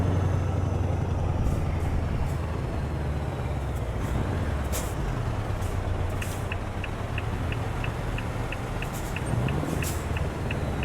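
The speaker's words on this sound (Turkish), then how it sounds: "Bunların bu ses, fren sesi niye böyle ya?" In Euro Truck Simulator, a Scania R560 V8 truck engine idles and rumbles while air brakes hiss in short bursts, with a rapid repeating beeping chime partway through.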